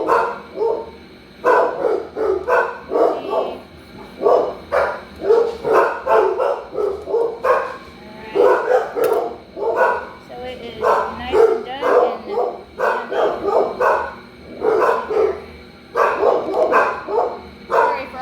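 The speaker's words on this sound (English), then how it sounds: "I'm going to have to deal with barking for a minute" Several dogs bark excitedly and repeatedly at close range, with yips and whines mixed in and only short pauses between bursts.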